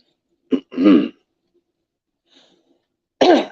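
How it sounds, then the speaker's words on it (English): A person clears their throat twice in quick guttural bursts, then pauses briefly before a third harsh throat clearing, close and alone. "I'm to clear my throat."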